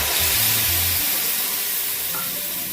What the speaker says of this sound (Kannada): ಈಗ ಬೆಳ್ಳುಳ್ಳಿ ಚೆನ್ನಾಗಿ ಫ್ರೈ ಇರುತ್ತೆ.